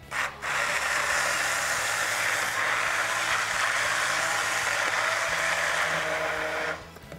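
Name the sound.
stick blender blending soup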